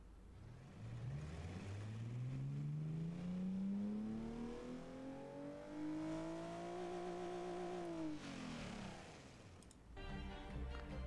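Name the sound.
car engine revving in video game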